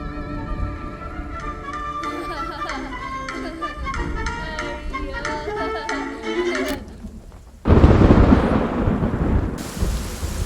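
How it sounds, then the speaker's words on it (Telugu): Heavy rain pours loud and steady after a stretch of film dialogue and music, with rain noise surging in abruptly and holding a dense hiss to the end. "ఈ వర్షం ఒకటి."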